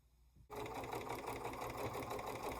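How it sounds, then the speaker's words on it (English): A sewing machine stitching fabric strips together starts abruptly after a brief quiet moment, then runs in a fast, steady mechanical rattle at close range. "Sew them on the colored side."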